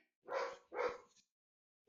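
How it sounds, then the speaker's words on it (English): A dog gives two close, loud barks in quick succession with a short yip after them, then starts a third bark at the very end, with silence in between. "Oh, that's my dog."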